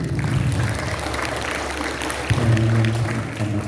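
An audience applauds for Anas at a Friday Islamic study gathering, a steady wash of clapping that continues for the whole stretch and swells slightly near the end, with a low hum underneath.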